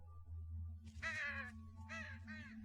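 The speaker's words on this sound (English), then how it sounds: "Again, the damn crows!" Crows caw in the video game Saint Kotar, two harsh calls near a castle chasm against a low ambient hum.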